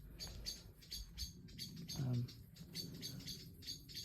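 Several birds call faintly in the distance at dusk, ready to roost, with repeated high chirps, over a low hum and a brief murmur of voices, in the Sunken Lane at Beaumont-Hamel on the Somme.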